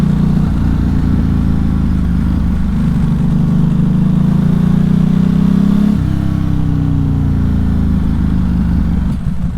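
A Ducati Hypermotard 1100 Evo (2010) motorcycle engine rumbles loudly and steadily up close, its low exhaust note rising as it revs and then easing off around the middle, with no voices.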